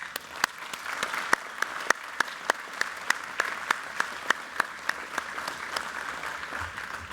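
Graduates at a university engineering and information sciences ceremony applaud their families and friends, the clapping steady and moderate, with a few sharp, distinct claps punctuating the sound at a regular pace.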